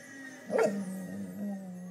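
A single short dog bark or yip, close by, in an otherwise quiet room.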